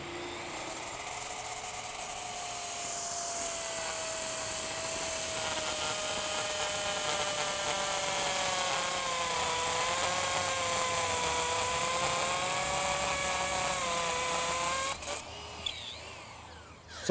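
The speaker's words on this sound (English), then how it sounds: "Standard hammer drill. Diamond bit." Hammer drill with a diamond bit boring into a paving stone during segmental retaining wall construction, a steady high whining drone that slowly rises and dips in pitch, loud and close, running alone for about fifteen seconds before cutting off.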